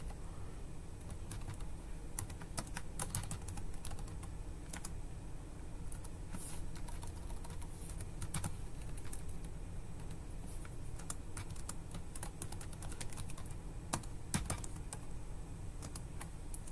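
Soft, steady clicking of keys on a computer keyboard as text is typed into a Squarespace site editor, close and fairly quiet with no talk over it.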